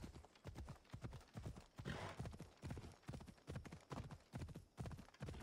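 A horse galloping under a rider in the video game Assassin's Creed Odyssey, steady rhythmic hoofbeats pounding in quick even strides, close and clear with no voices over them.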